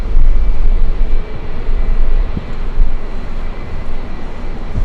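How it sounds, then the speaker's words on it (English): A jet airliner passing at LAX, a loud, close, rumbling engine roar with low-end buffeting that swells and eases over a few seconds, no speech. "One more plane, yeah."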